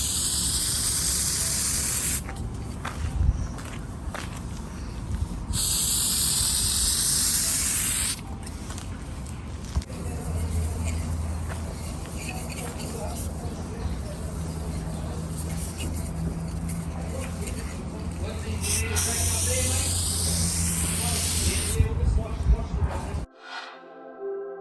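Aerosol can of plastic adhesion promoter, mostly solvents, sprayed in several bursts onto a boat's new front window frames during a haul-out; the hissing spray is loud and close, with a steady low drone running beneath.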